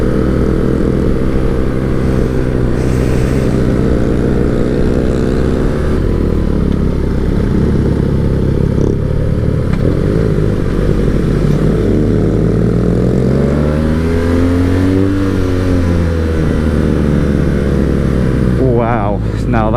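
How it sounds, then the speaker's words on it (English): A motorcycle engine drones loudly and steadily throughout, its pitch rising and falling as the bike is ridden at speed, with a strong revving sweep near the end and some talk mixed in. "Sounds so cool, that bike."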